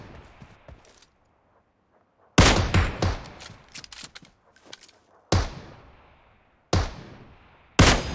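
Loud gunfire from the mobile battle-royale game PUBG Mobile, with a sharp burst of rapid shots followed by several single heavy cracks spaced a second or so apart, each ringing out with a short tail; quiet stretches fall between them.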